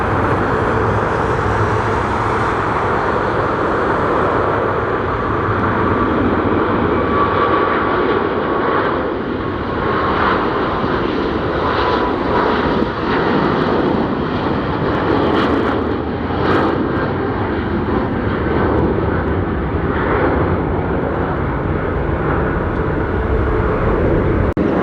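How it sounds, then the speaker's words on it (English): A China Eastern jet airliner departs LAX outbound for Shanghai: a loud, continuous engine roar that stays strong throughout with a slowly shifting whine, heard from nearby without speech. "Here we got China Eastern 586 aircraft going back out to Shanghai."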